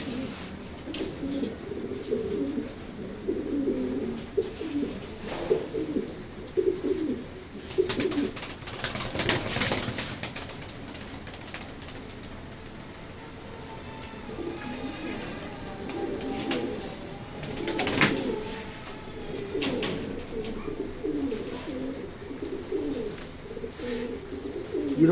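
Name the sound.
pigeons cooing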